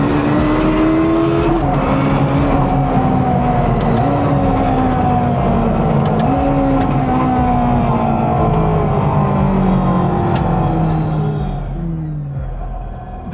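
The 1250-hp engine of a Czinger 21C hypercar revving hard in a tunnel through several gear changes, pitch climbing and dropping with each shift, enclosed and reverberant off close walls.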